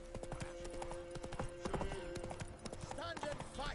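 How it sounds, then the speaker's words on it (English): Horse hooves clip-clop in The Witcher 3, a sharp, irregular series of nearby hoofbeats, with faint game voices and a brief whinny-like call toward the end. "Time to water the horses"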